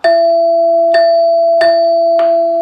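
A NuTone bar door chime plays its side-door tone: four loud, ringing metallic strikes in a steady rhythm, each note sustaining clearly into the next, close and alone with no voices.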